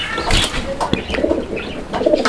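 A pair of pigeons, a male and a female kept for their calls, coo close by in soft repeated throaty bursts, with light rustling between calls and no speech.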